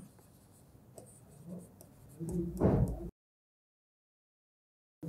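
Pen or chalk scratching out a partial-fraction math solution during a lecture, faint irregular strokes and taps that grow louder and scrapier near three seconds before the sound drops to silence.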